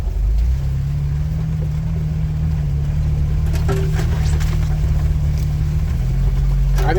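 A four-wheel drive vehicle grinding along a forest road in a national forest, its steady engine drone loud and close throughout, with faint rattles and bumps over it.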